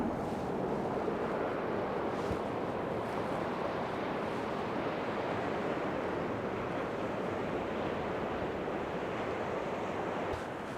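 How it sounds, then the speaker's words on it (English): Strong easterly wind of 35 to 40 miles an hour buffets the microphone on the Bristol Channel shore at night, a loud unbroken roar mixed with surf that holds steady throughout. "we've got this horrible easterly wind, which is probably 35 to 40 mile an hour easterly, coming from right to left"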